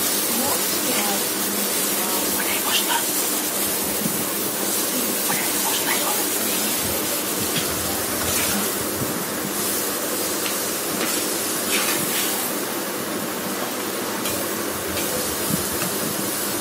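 Red amaranth greens fry with spices in a pan, giving a steady bright sizzling hiss throughout, with some clatter of stirring and a voice talking over it.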